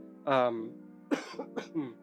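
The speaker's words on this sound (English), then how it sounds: "sorry about that cough" A man coughs several times during a card-game deck commentary: one long harsh cough, then a short run of three or four quicker, throatier coughs, close to the microphone and with no other sound.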